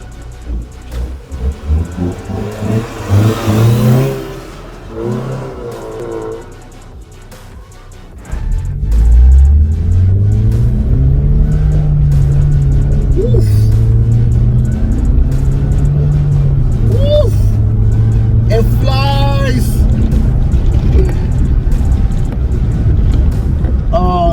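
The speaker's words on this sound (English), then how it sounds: "Even the sound of the engine." A VW Citi Golf 1.4i engine rises in pitch as the car accelerates while driving, then holds a loud, steady drone with wind noise. Voices talk over it near the start.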